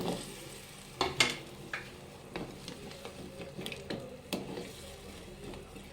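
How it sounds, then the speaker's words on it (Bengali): Pieces of drumstick vegetable dropped into boiling water in a pot, giving a few soft splashes and clatters followed by a quiet bubbling simmer, close by and fairly faint. "এবার সজনে ডাঁটাগুলো দিয়ে দেবো।"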